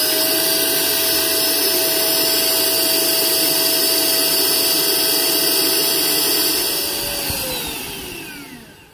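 A Hoover ONEPWR Evolve Pet cordless upright vacuum in carpet mode gives a loud, steady motor whine with rushing airflow, then winds down in pitch and fades over the last couple of seconds.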